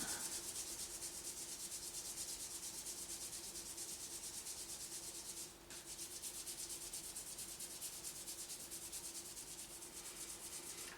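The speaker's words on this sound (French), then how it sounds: "On frotte. Chauffez vos index." Index fingers rubbed vigorously against each other to warm them during a Qi Gong self-massage, a steady, close, dry rubbing hiss that runs without pause.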